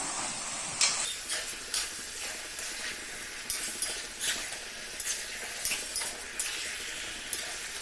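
Fried chicken stirred into biryani masala in a pot, with a steady sizzle broken by regular scraping strokes of a spoon about twice a second, close and fairly loud.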